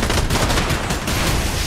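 Dense, loud gunfire rattles continuously in a Fortnite boss fight, rapid shots blurring together with no pauses and no voices over it.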